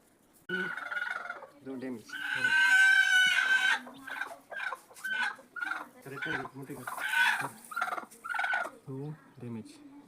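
Hens cluck and squawk close by in a rhythmic series of short calls, with one louder drawn-out cackle near the start and steady clucking continuing throughout.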